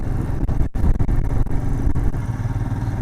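A heavy Himachal Pradesh Transport Corporation bus engine rumbles close by with clattering bumps as it passes on a mountain road, loud and steady throughout.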